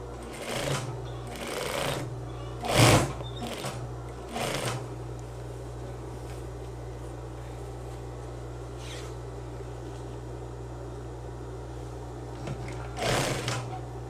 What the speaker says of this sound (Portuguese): Costura, passa uma reta aqui no ombro.